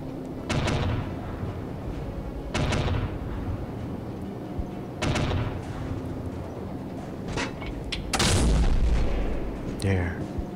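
Machine gun bursts and booming artillery-like blasts from the mobile game Call of Duty Heroes repeat in several loud bursts of a couple of seconds each, separated by short gaps.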